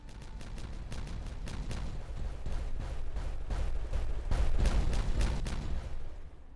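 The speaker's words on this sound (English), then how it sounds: "We've got more of our dynamite in here that we were setting up last time, so let's go ahead and detonate this out" Dynamite charges detonating in the beaver colony game Timberborn come as a rapid, dense series of close booms and cracks rolling over one another for several seconds before fading out.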